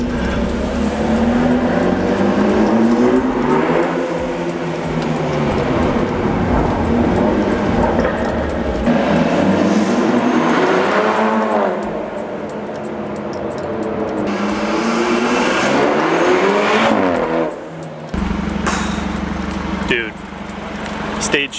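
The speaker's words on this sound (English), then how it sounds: "This car sounds so good." A car fitted with a bootmod3 stage 2 flash tune accelerates hard, its engine rising and falling through repeated pulls, loud and close throughout, with a brief pause near the end.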